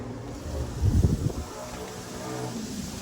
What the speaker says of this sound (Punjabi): ਹਵਾ ਚੱਲ ਰਹੀ ਪੂਰੇ ਜ਼ੋਰਾਂ ਨਾਲ